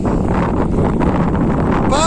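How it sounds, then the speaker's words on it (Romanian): Strong wind gusts at a carp and crucian carp fishing spot by a lake, a steady loud roar battering the microphone throughout, with a voice talking over it. "Bate vântul ca la nebun."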